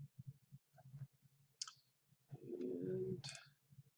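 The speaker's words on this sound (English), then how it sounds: "So I'm going to click OK." Faint, close clicks of a computer mouse, a few light taps spaced apart over a quiet background with a brief soft murmur in between.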